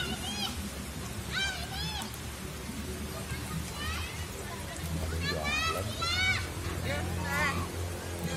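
Rain falls steadily during an outdoor swim at a pool, a constant hiss of drops on water and surfaces beneath children's chatter and shouts, with voices talking throughout.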